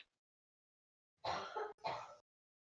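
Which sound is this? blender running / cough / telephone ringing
cough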